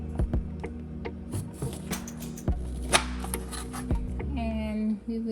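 A knife chops through a vegetable on a cutting board, cutting it into four pieces, with a handful of sharp, separate thuds spaced irregularly and close by in a quiet kitchen.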